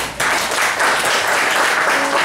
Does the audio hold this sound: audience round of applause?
yes